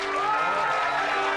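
Studio audience applauding for a clapometer vote on a game show, a dense steady wash of clapping that stays loud and even throughout.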